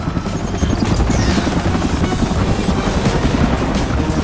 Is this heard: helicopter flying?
yes